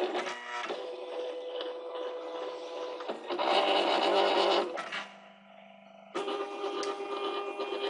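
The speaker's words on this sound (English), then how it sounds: "Now right now it's searching for those registration marks." Silhouette cutting machine moving its carriage while searching for registration marks in a print and cut job, whirring motor runs that rise, pause and restart, close and moderately loud, with no talking.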